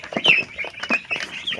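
Ross 308 broiler chicks cheep and peep steadily while being weighed in batches of ten, a busy overlapping chorus of short bright calls close by, with no talking.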